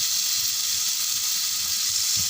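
Marinated fish pieces fry uncovered in a pan, giving off a steady, close sizzling hiss with faint crackles and no voices.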